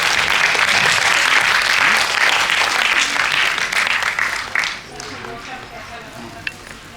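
Loud audience applause after a stage play, a dense wash of clapping that fades partway through into a few scattered claps and quieter room sound.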